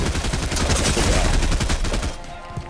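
Rapid, sustained gunfire in the video game Fortnite, a dense rattling fusillade of shots crackling for about two seconds, then thinning out to a quieter tail.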